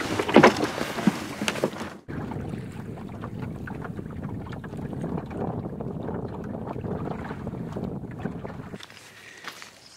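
Wind sweeps across a boat anchored in a remote part of the Venetian Lagoon, a broad rushing roar with gusty buffeting on the microphone, steady for most of the clip and dropping off near the end.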